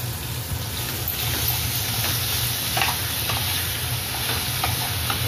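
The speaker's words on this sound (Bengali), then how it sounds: "সামান্য তেল দেবো আর একটু। এরপর পেঁয়াজ বাটা দিলাম।" Onion paste frying in a little oil in a pan, a steady close sizzle with faint stirring scrapes throughout, no talking.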